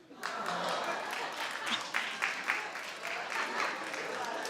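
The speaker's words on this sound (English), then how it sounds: "Like 8 people clapped," A small handful of audience members clapping, loose, scattered claps at a fairly low level that run on for a few seconds and thin out rather than building into full applause.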